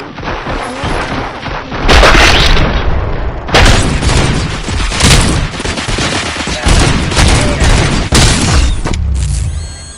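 Heavy gunfire in the RoboCop Rogue City video game, with loud bursts and booming shots firing in rapid succession and overlapping in a dense, chaotic barrage.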